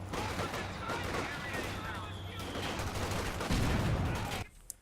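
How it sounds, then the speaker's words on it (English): A mortar shell strikes an infantry squad in Company of Heroes 2, set amid dense battlefield gunfire and rumbling explosions, with a low voice under the din before a sharp cutoff. "Mortar hits, takes out nearly an entire squad."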